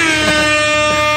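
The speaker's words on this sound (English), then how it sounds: "so now I can play some air horns." An air horn blast from an MLG soundboard phone app, one loud, brassy, continuous honk that lasts just over a second with no talk over it.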